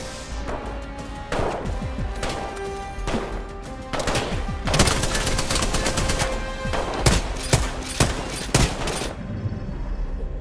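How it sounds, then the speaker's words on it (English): Loud, close gunfire in the battle royale video game Apex Legends: repeated single shots and automatic bursts in irregular clusters, with thuds and impacts between them and no talking. "Some fuckers shooting at me."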